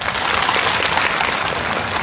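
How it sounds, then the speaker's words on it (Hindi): Crowd applause at a tribal reservation rally in Pratapgarh, a dense, steady wash of many hands clapping at once, loud and continuous throughout with no talk over it. "तो सबसे पहले आप अपने लिए एक बार ताली बजा करके अभिनंदन करिए दोस्तों।"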